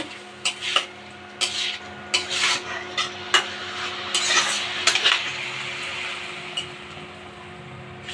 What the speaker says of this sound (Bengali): তারপর আবার একটু ভালোভাবে নাড়াচাড়া করে নেব।